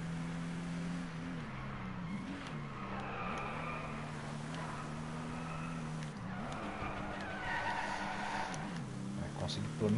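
Race car engine in the racing video game Driveclub, a steady droning whine that shifts pitch through corners with tyre squeal, under continuous talk.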